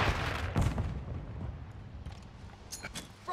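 Gunfire in a multiplayer match of the video game Call of Duty Modern Warfare II on a lighthouse map. A couple of heavy booming shots come first, then sharper scattered cracks over a dense battle rumble.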